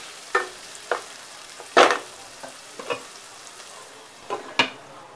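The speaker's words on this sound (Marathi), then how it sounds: "त्यातच आपण कांदा टाकणार आहोत, टोमॅटो, छान शिजवून घेऊया." Onion and tomato fry in a tempering of curry leaves and mustard seeds for a Maharashtrian banana flower curry. A quiet sizzle runs underneath, broken by about eight sharp spoon scrapes and stirs at uneven intervals, with no talk.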